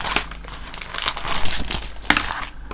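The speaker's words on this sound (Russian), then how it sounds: "И сейчас, как обычно, я вынимаю содержимое пакета" Plastic packaging crinkles and rustles as an embroidery kit is unpacked, with close, fairly loud crackling bursts throughout and a couple of sharper crisp snaps, no voices.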